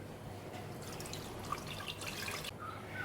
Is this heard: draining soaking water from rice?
yes